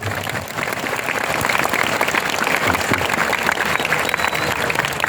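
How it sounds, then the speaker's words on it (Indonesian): A large audience at a sermon in a mosque in Riau, Indonesia claps steadily and loudly, a dense unbroken wash of applause holding for several seconds. "ayo tepuk tangan dulu"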